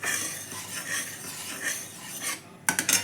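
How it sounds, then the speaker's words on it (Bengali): A spoon scrapes and stirs Amul milk in a pan for rabdi, a close, steady rasping sound with a few sharper clinks near the end. "আমুল দুধটা দিয়ে নাড়ছি।"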